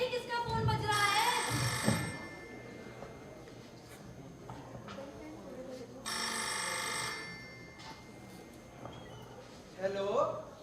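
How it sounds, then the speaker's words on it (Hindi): A telephone rings in two loud bursts separated by a pause, with voices talking in the background between the rings. "देखो तो सही किसका फोन बज रहा है"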